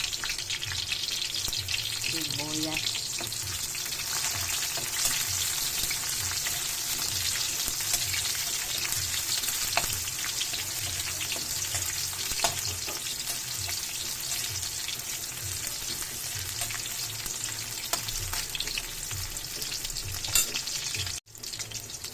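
Garlic and onion sautéing in a pan for ginisang ampalaya, giving a steady, broad sizzle throughout with occasional stirring scrapes and a brief clatter near the end; no voices.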